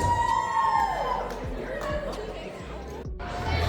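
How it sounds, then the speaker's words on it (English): A lively event crowd at a base gathering cheers and chatters continuously, voices layered into a dense, steady roar with scattered shouts throughout. "How about a big round of applause for Brian and Josh, ladies and gentlemen, round of applause."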